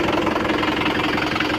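Tractor engine running at a farm by a village river channel, a loud steady diesel chug with a knocking throb, close and continuous with no voices.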